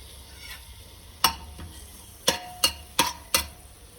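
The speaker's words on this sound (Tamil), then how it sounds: "கீ சூடான உடனே நம்ம இதில் ஆனியனும் பூண்டும் வந்து போட்டுடுறோம்" Onion and garlic going into hot ghee in a pan, a soft continuous sizzle broken by several sharp clacks of a spoon against the vessel.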